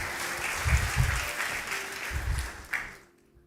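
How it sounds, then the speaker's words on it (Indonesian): Applause from an audience with bursts of clapping swelling and easing over a few seconds, then fading out near the end. "Kita beri tepuk tangan, saudara."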